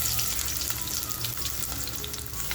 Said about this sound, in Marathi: कांदा बघा फुल फ्लेमवरतीच आपल्याला फ्राय करायचा आहे.